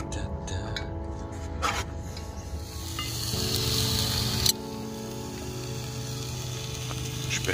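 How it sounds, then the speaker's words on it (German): Vegetables sizzling steadily in a hot pan while being stirred, a continuous close frying hiss with occasional scraping, cooked outdoors at an abandoned site. "Jetzt nochmal das Gemüse schon mal ein bisschen anbraten."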